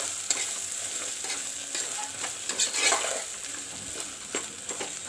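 Egg masala being stirred and mixed in a frying pan, Bihari style, with a spoon scraping through the sizzling mixture in irregular strokes over a steady close hiss of frying.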